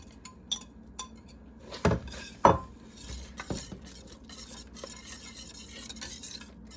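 A spoon scrapes and clinks against a pan of sausage gravy, two louder knocks early on, then softer stirring over a faint bubbling simmer.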